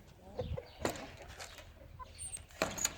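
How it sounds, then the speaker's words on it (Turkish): Chickens and roosters clucking nearby, scattered short calls and squawks over a quiet yard background. "horoz kafesimiz var."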